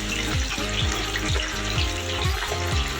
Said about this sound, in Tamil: அனலை லோ ஃப்ளேமுக்கு மாற்றிட்டு சிக்கன் துண்டுகளை முழுசாக ஃப்ரை பண்ணி எடுத்துக்கலாம்